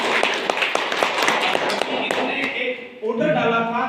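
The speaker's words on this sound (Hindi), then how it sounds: "जोरदार तालियां हम चाहेंगे।" Applause from an audience at a rural village gathering, a dense run of claps under crowd noise for about three seconds before it dies out and a voice starts talking.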